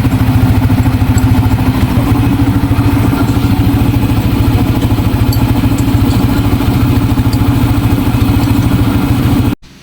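A Yamaha Sniper 155 motorcycle engine fitted with a new clutch lining and damper runs at a steady, smooth idle, close and loud with an even low throb, before cutting off abruptly at the very end.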